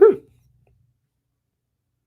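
A single loud, close dog bark, one sharp yelp at the very start that cuts off quickly into silence.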